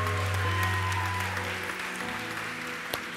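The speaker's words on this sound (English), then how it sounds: "Give her a big round of applause" Church congregation applauding during a Sunday morning service, steady broadband clapping with a low sustained hum or tone underneath for the first half, fading slightly toward the end.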